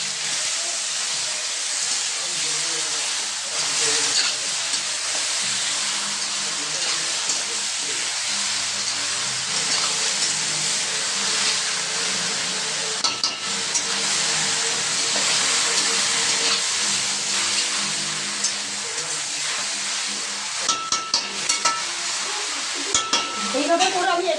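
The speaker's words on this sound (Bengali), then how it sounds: "এইভাবে করে আমি একটু একটু করে ভেজে নেব।" Mutton frying in a home kitchen pan gives a steady, close sizzle and hiss that holds at an even level throughout, with a few brief clinks and stirring noises near the end.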